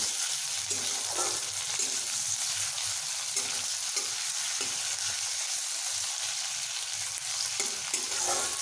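Ginger and tomatoes fry in a pan for a pumpkin dish, giving a constant bright sizzle with soft, regular stirring strokes about once a second, close up.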